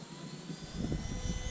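A Freewing F-14 Tomcat twin 64mm electric ducted-fan RC jet whines overhead in flight, a steady high-pitched rush that swells louder midway through, with no talk over it.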